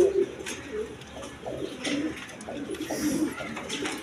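Giribaz pigeons, a colored golla breed, coo in low repeated soft phrases throughout, fairly close and steady, with a few faint chirps and no talking over them.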